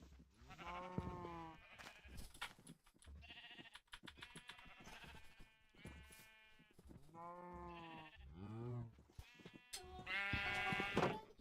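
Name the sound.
sheep bleating in Minecraft video game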